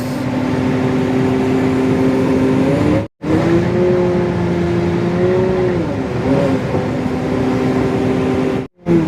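A city bus drives along, heard from inside as a steady, loud engine drone with a shifting tonal whine that rises and falls as it changes speed. Two brief cuts break the sound.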